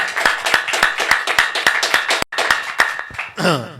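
A congregation claps in unison to thank God, evenly spaced loud hand claps ringing out in a strong steady beat, pausing briefly before a few more and a voice at the end.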